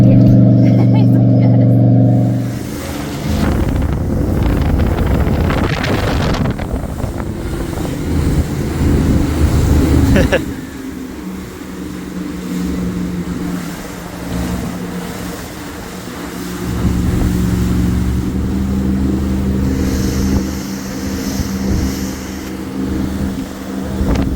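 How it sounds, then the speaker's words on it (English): An old family motorboat with a 350 engine roars out on Lake Powell, its loud droning motor shifting pitch as it runs, mixed with heavy wind buffeting and people talking nearby. "Here's me in the old family boat with the 350"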